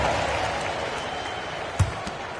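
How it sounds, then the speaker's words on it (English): Broadband crowd noise fills a basketball arena throughout, a steady wash of clapping and cheering from a large audience, with a single sharp thump near the end standing out briefly above it. "Give yourself a round of applause."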